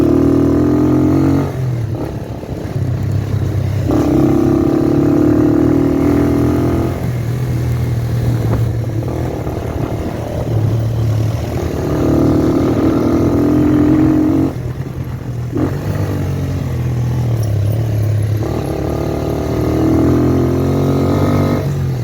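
Motorcycle on a test ride, its engine revving up and dropping back in repeated surges, loud and close throughout with no talking.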